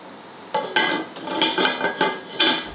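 A metal lid is set onto a pot of bitter melon and pickled mustard greens left to simmer, giving a series of close metallic clanks and scrapes, four or five sharp knocks in quick succession.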